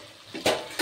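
A lid lifted off a cooking pot of vegetables with drumsticks and potatoes, two quick close metallic clanks less than a second apart, fairly soft.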